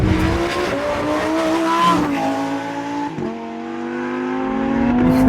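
Lamborghini Huracan EVO RWD with a naturally aspirated engine revs hard and close, its loud rising howl stepping up through quick gear changes with brief dips between shifts, building again toward the end.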